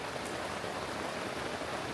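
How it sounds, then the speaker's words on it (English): Heavy rain pours onto a tent during a hurricane storm on a hammock camping trip, a dense, loud, unbroken hiss of drops with no voices. "as you can probably tell, lots of rain falling"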